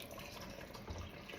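Warm water pours into a jar with a soft, steady splashing rush that runs close by, quiet and continuous for a moment.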